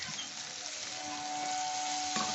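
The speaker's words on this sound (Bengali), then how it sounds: "একটু সামান্য জল দিচ্ছি," Water is poured into a pan of frying cauliflower curry, producing a steady, close hissing sizzle that holds for a couple of seconds and then shifts slightly as the pour ends.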